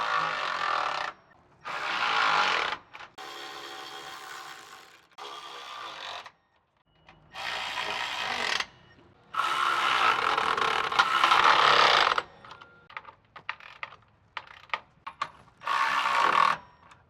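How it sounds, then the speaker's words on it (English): A ratchet tightens frame bolts for rock sliders on a 2014-2021 Toyota Tundra, with close, separate bursts of quick clicking broken by silent gaps while each bolt is worked. "I'm going to simply move from front to back, and I'm going to put all the bolts all the way tight."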